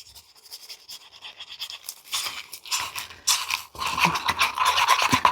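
A tool scrapes mica powder off the inside walls of a container during resin casting: short, dry, crisp scratching strokes, close up and growing busier and louder as the clip goes on.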